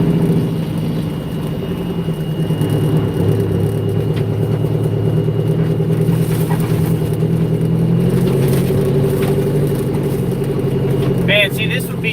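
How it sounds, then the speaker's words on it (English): A dump truck's engine rumbles steadily at close range for the whole stretch, a deep continuous drone with faint rattles on top and a brief squeak near the end. "Everybody loves this dump truck, man. The sound is so unique."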